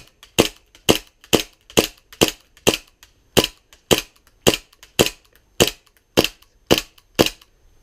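A Norvitsch SSP-1 gas airsoft pistol fires BBs in a steady series of about thirteen sharp, close cracks, evenly spaced roughly half a second apart, with no talking.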